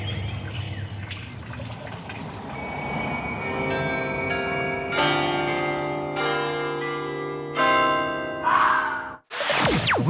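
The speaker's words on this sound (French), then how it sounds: "on entend des cloches" Church bells ring out across Brussels, a series of overlapping strikes building from about three seconds in, each tone hanging and decaying over a steady city hum before a sharp burst near the end.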